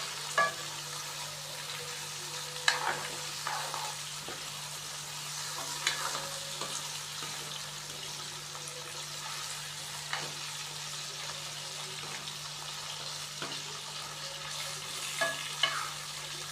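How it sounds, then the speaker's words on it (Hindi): Chicken frying with ginger garlic paste in a pan, a steady close sizzle broken by scattered scrapes and clinks of stirring, with no talking. "चिकन को अदरक लहसुन के पेस्ट के साथ हम 3 से 4 मिनट के लिए फ्राई कर लेंगे"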